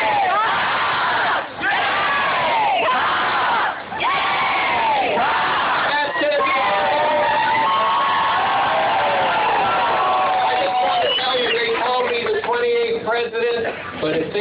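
A large crowd at the Carolina baseball team's send-off roars in loud rhythmic chanting, rising bursts of shouting followed by sustained cheering and whooping that fills the whole stretch at close range.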